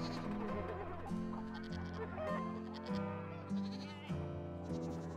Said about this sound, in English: Got some baby goats coming in.